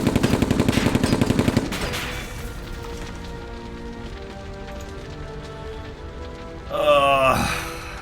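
Rifle gunfire in the video game Silent Storm 2: a fast burst of rapid, evenly spaced shots opens loud and close, then gives way to a steady wash of ambient battle noise, with a brief swell of tonal clatter near the end.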